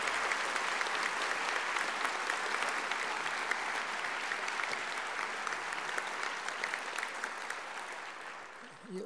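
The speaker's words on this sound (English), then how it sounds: "Please, another round of applause." A large audience applauds steadily at a Veterans' Day tribute to Japanese-American WWII veterans, dense sustained clapping that fills the room for several seconds before easing off at the end.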